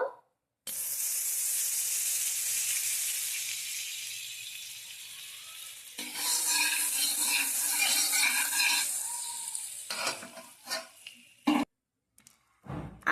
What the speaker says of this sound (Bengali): কড়াইয়ে বাটার দিয়ে দেবো